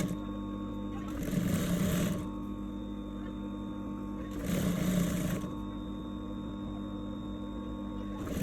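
A sewing machine stitching a shirt collar runs in two short bursts of about a second each, separated by a pause, over a steady low electrical hum.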